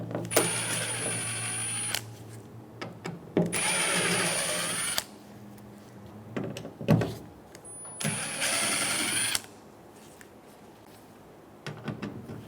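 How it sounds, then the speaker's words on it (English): A power driver with a T15 bit backs screws out of a plastic tailgate cover on a 2014-2018 Chevrolet Silverado 1500, with three loud, whining runs of a few seconds each separated by quieter clinks and handling noise. "Using a T15 bit, we're going to remove the 8 screws for the tailgate cover"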